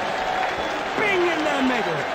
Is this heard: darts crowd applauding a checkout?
yes